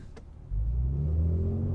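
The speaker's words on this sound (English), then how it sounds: "There is some augmented engine noise being pumped into the cabin, and it does become louder when you go into Sport and Sport Plus modes" Inside the cabin of a Genesis G70 3.3t in Sport Plus mode, augmented engine sound swells into a steady low drone as the engine note rises, heard alone.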